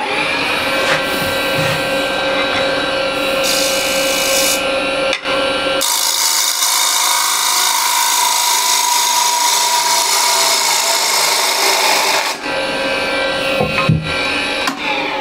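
A woodturning gouge cuts into spinning wood on a lathe, giving a loud, continuous rasping scrape over the motor's steady whine, with shifts in tone as the cut changes and no speech.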